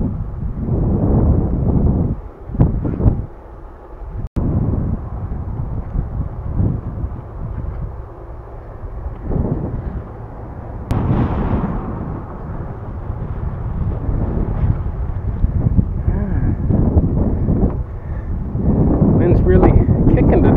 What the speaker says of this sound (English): Wind's really kicking today.